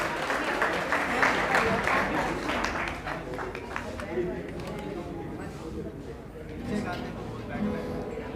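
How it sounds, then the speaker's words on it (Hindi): Applause from an audience at a Samata Sainik Dal gathering for Bahujan women, clapping for a band and running steadily under ongoing talk and crowd noise. "ज़ोरदार तालियां बजा दीजिए इस बैंड के लिए"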